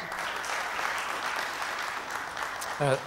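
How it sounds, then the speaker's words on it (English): An audience applauds a panel at a session on technology and Islamic institutions, a sustained wash of clapping from a hall, with a brief voice-like sound near the end. "please give Neil Beckley and the rest of the panel a big round of applause"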